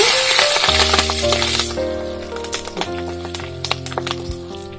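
Mustard seeds, cumin and green chili hitting hot oil in a pan, starting with a loud burst of sizzling that settles into a steady crackle, with sharp popping spits from the seeds scattered throughout and faint tonal hum underneath.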